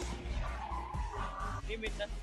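A vehicle in Call of Duty Mobile drives at speed with engine drone and tire skid, heard steadily throughout with people talking over it.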